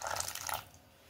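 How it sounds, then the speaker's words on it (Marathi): Water is poured into sabudana idli batter in a short splashy trickle lasting about half a second, then fading to quiet. "जसं पाणी लागेल तसं पाणी थोडं टाकत चला।"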